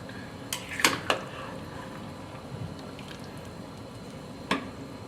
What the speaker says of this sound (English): Gentle stir. We don't want the fish to break apart.